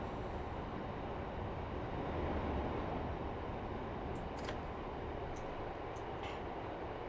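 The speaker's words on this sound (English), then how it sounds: "Oh, train coming the other way." A passing train rumbles steadily on the Riviera Line in Train Simulator 2020, heard from a Class 143 Pacer cab as a broad continuous roar with faint high squeals and clicks near the end.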